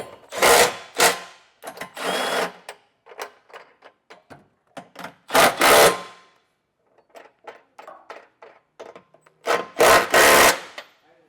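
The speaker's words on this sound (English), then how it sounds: "I'll come back through with a 19mm socket and snug them all down" A 19mm socket on a ratchet snugging down the nuts of a Curt trailer hitch receiver on a 2026 Chevrolet Equinox, with bursts of rapid ratchet clicking separated by short metallic taps and pauses, close and alone.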